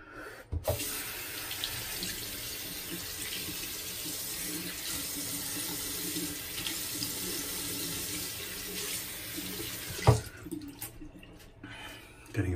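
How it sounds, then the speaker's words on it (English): A faucet runs steadily for a warm-then-cold water rinse after a wet-shaving cleanup pass, a loud continuous splashing stream into a sink that stops abruptly near the end, followed by a few faint clicks and drips. "Did my warm water, cold water rinse."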